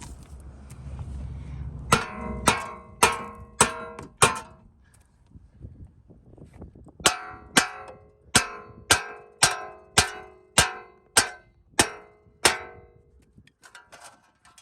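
A hammer raps on the front control arm of an Audi suspension, a few quick metallic clangs, a pause, then a steady run of about a dozen evenly spaced ringing strikes, close and clear.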